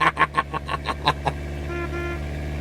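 A random red car in The Stanley Parable video game honks a rapid series of about seven short toots over steady engine hum, followed by a lower sustained tone as the car idles nearby.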